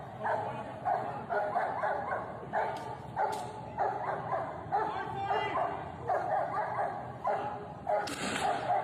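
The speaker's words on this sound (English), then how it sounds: "Oh, there goes the dog." A dog barks and yips repeatedly in an even, insistent rhythm, close and fairly loud, with a few whimpering yelps near the end and a person talking at a lower level underneath.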